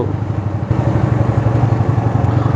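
Motorcycles carrying two riders each pass close by in Nainital during heavy rain, giving a steady, loud engine drone with a faint clatter throughout.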